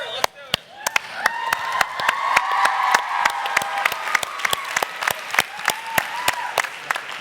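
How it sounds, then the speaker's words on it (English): A small audience at a Re:Solve event claps and cheers, sharp individual claps ringing out over a steady wash of voices and whoops, fairly close and lively throughout. "thank you for cheering loudly"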